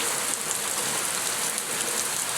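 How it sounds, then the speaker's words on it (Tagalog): Loud, dense downpour of heavy rain pounding steadily on surfaces, close by, with no voices. "Lakas ng ulan ngayon guys."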